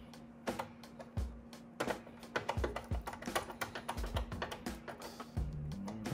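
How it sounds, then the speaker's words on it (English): Screws are tightened on a North Bayou dual monitor desk mount, giving a run of small clicking, ticking and tapping sounds from the tool and metal parts, close and uneven, over a faint steady background hum. "But I'm gonna tighten the top two screws up first."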